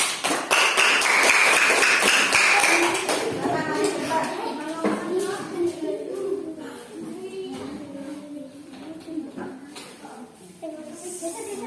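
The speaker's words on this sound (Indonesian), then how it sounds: "Kita kasih tepuk tangan untuk kelompok 3." Classmates clap for a student group in a classroom, a patter of scattered taps that thins out as voices start talking over it.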